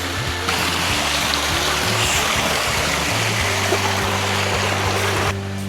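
Waterfall on a rocky Mount Rokko gorge trail in Jigokudani, a loud, steady broadband rush of falling water with a low engine-like hum beneath it, continuous and close.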